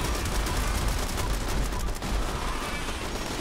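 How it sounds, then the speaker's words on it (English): Sustained turret gunfire in the video game Fallout 76, a dense continuous barrage of rapid shots holding steady at close range with no talk over it. "Those turrets are doing some good damage to her."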